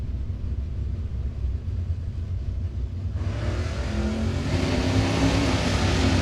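Drag racing cars, a 1978 Camaro with an automatic and a red Mustang, accelerating hard at Gainesville Raceway: a steady loud engine roar that swells and intensifies partway through as the cars power down the strip.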